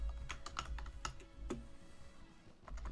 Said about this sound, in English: I apologise if this typing is kind of loud.